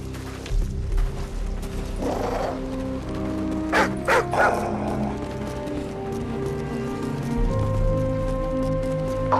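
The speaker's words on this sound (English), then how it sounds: "Pooch doesn't look too friendly." In Call of Duty 4, a dog barks and yips a few times in short bursts against a steady background of ambient game sound and rain-like noise.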